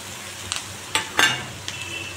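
Paneer frying in a pan with turmeric, giving a steady soft sizzle with a few sharper crackling bursts as pieces land and are stirred, close and alone.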